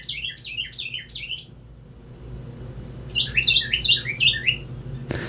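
Bird outside chirping in two separate bursts of rapid, repeated tweets with a quiet gap between, moderately close over low ambient rumble, ending with a brief sharp knock.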